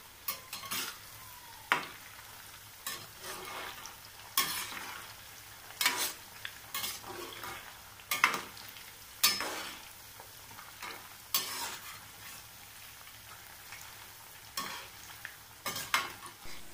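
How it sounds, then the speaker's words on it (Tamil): Macaroni fries in hot oil with a soft, steady sizzle, broken by a series of louder metallic scrapes and clinks from stirring at irregular intervals. There is no talk. "இதேமாரி ரிமைனிங் இருக்கிறதும் பொறிச்சு எடுத்துடலாம்"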